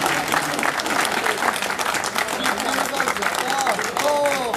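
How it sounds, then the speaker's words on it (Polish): A crowd at an outdoor amateur swimming contest in Augustów applauds steadily for several seconds, dense clapping with a voice speaking over it. "Prosimy o brawa!"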